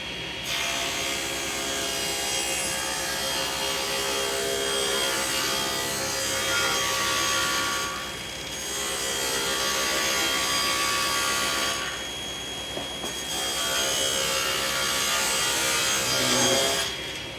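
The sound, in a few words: table saw cutting cedar boards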